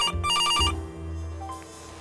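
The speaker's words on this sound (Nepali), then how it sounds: "ए, फोन आएको" A phone ringtone chirps in short repeated electronic pulses for under a second, then fades beneath a sustained low musical tone and background hum.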